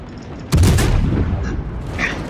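Warship guns fire in the World of Warships game: one loud booming shot with a long rumbling tail, over a low ambient game hum.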